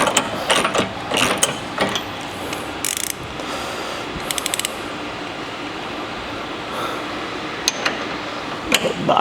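Ratchet clicking in short repeated bursts while tightening K-member bolts on an S197 Mustang during a Team Z K-member install, close and fairly loud over workshop background, no talk.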